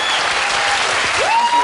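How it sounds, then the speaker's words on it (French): Studio audience applause on a Belgian television show welcoming two actresses, loud sustained clapping with a faint tonal whistle-like sound rising over it near the end. "je voudrais qu'on les applaudisse encore une fois"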